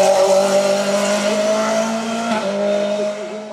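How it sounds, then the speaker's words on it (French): A Norma M20 FC race car at a hillclimb, its engine a loud sustained harmonic drone that holds steady, dips briefly and then carries on, heard close with no voices. "Enzo Chiocci, 3e du groupe, qui retrouve toutes ses sensations sur sa M20 FC."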